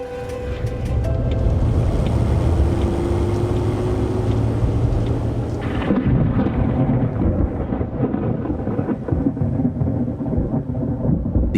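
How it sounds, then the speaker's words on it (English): A thunderstorm brings a heavy afternoon downpour over a town, heard as a dense, loud, steady roar of rain with deep rumbling thunder running continuously beneath, while faint tonal lines linger underneath during the first half. "The afternoon downpour has left the town drenched."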